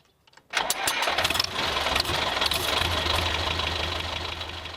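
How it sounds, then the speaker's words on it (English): A farm tractor engine cranks and catches after a brief quiet moment, then settles into a loud, steady idle with a low rumbling throb that continues to the end. "He starts up the tractor."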